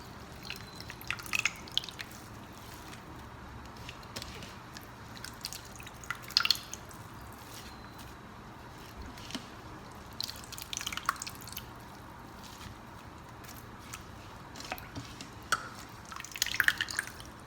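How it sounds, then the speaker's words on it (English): Quiet, steady dripping and trickling of water drained and squeezed from ground urad dal batter, with occasional wetter splashes and squishes, close by and without any talking. "So I'm going to drain this water fully, squeeze the water out."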